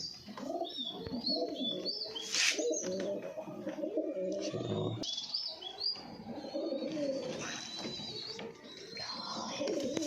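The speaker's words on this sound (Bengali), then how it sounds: "এবার এই কবুতরটাকে খাওয়াবো" Baby pigeon being hand-fed indoors, giving soft repeated coos and chirps close by, with a quiet voice in the background.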